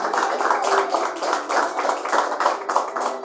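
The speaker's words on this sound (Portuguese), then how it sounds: "Palmas para Jesus." Congregation clapping in a church in praise of Jesus, a dense sustained patter of many hands at a fairly loud, even level throughout.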